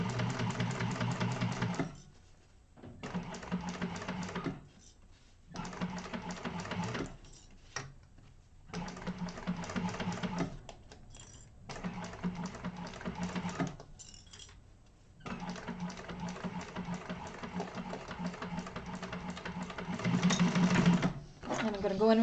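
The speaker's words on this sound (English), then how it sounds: "I'm actually going to chain stitch these so I don't have to break my thread too many times" A sewing machine chain-stitches pieces of a Zynah bag in steady buzzing runs, stopping and restarting about a dozen times, with brief pauses where a voice talks in between.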